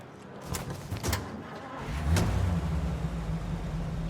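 A car in Mafia Definitive Edition drives along with a steady mid-pitched engine hum that builds slightly, with a few thumps early on and no speech.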